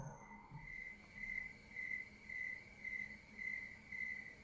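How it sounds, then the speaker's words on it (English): A cricket chirping sound effect plays during a live stream, steady pulsed trills repeating about every half second, faint and alone with no talking. "It's the cricket sound."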